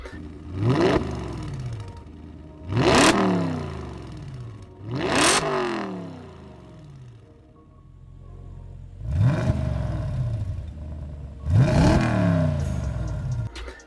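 A car engine in a video game revs up hard five times, each surge climbing steeply in pitch then dropping back, loud and close with a low idle rumble between bursts.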